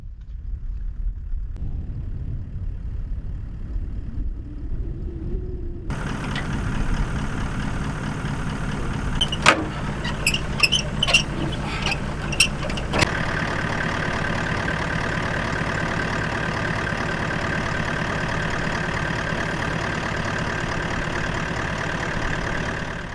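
A car on an overland drive in Botswana, engine starting faintly as a low rumble, then a steadier running drone with a few sharp clicks and knocks midway, settling into a continuous engine hum, no talk.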